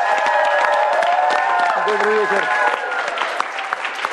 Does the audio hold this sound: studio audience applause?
yes